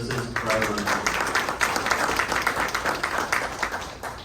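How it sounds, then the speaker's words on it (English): Audience applause at a racing team's driver of the year awards ceremony, a steady wash of many hands clapping for several seconds with some voices mixed in. "Let's give a round of applause for Skip Lynch, Boss Transportation Services Driver of the Year"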